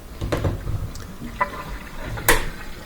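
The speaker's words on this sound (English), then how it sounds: "Listening to the water flowing through this thing, which is called the air gap." Water from a Bosch dishwasher's drain cycle gurgling through the air gap, irregular splashy gushes and drips with a few sharper bursts, close and fairly loud, no speech.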